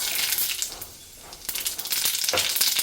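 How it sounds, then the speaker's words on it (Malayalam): Mustard seeds spatter and pop in hot oil in a pan, a crackling sizzle with sharp bursts, briefly quieter in the middle before swelling again, close and alone. "അത് നല്ലോണം പൊട്ടിക്കട്ടെ"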